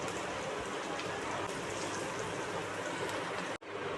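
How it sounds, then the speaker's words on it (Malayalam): Biryani rice is stirred in a pot of boiling water, producing a continuous, close, hissing bubbling rush like heavy rain, with one brief dropout just before the end. "അരി ഒന്ന് ഇളക്കി വയ്ക്കാം നമുക്ക്."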